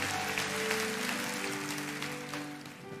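Church congregation applauding God during a sermon, a dense clapping over sustained worship music that gradually tapers off.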